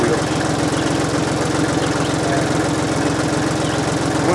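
A lawn mower engine runs steadily at close range with a throbbing, pulsing idle that never changes. It is set just over an inch high on its gauge wheels for cutting a clover food plot. No voices are heard.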